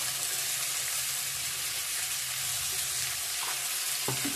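Turmeric and other spices fry in hot oil with salt for a potato, pea and paneer curry, making a steady broadband sizzle from start to finish with a couple of faint utensil clicks near the end.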